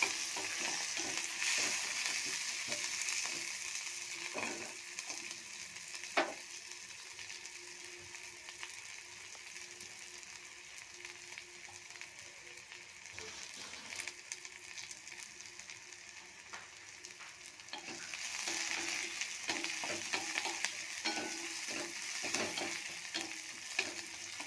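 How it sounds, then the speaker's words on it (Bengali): Onions fry in hot oil with cloves, cardamom and cinnamon, a steady close sizzle and crackle while a spatula scrapes and stirs repeatedly through the pan, swelling louder near the end. "পেঁয়াজটা ভাজা ফ্রাই করে নিই ভালোভাবে।"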